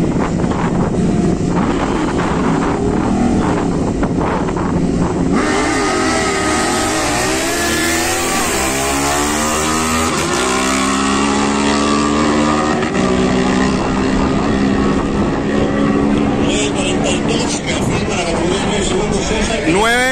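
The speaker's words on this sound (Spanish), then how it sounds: "ahora viene la moto más rápida de Colombia, la GSX-R1000R con el récord nacional contra Ducati Diavel" Loud, high-revving motorcycle engines, a Suzuki GSX-R1000R against a Ducati, roaring and accelerating hard in a street race in Barranquilla, pitch climbing and shifting as the bikes race past, with wind buffeting the microphone.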